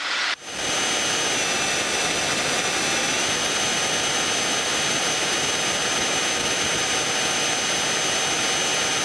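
The small aircraft "The Bee" climbs just after takeoff, its engine a loud, steady roar from inside the cockpit that holds unchanged throughout, with no talk.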